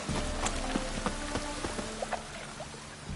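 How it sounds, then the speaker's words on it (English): Rain in The Witcher 3 patters steadily with scattered individual drops tapping close by, over a soft low background hum. "And it's raining again."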